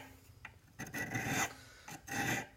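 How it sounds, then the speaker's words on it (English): A honing stone rasps across a small burr on metal in a shop setting, rotated as it goes: a few quiet rubbing strokes, two longer scrapes standing out clearly with no talking. "I'm going to take my honing stone and I'm going to run it across it."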